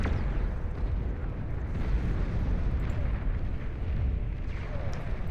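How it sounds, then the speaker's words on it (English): Many Juno missiles detonate across the map in Beyond All Reason, an 8v8 deathmatch battle, as a dense, continuous rumble of overlapping distant explosions with no single blast standing out. "Mass Juno missile. 100 Juno missiles across the map right here."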